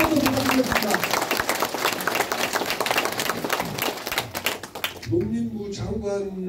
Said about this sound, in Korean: 여러분 이 대목에서 꼭 해달라고 박수 한번 부탁드리겠습니다